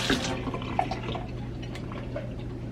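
Running tap water splashes over a burger press being rinsed in a kitchen sink, a close, continuous trickle and spatter with small drips for a few seconds and no talk.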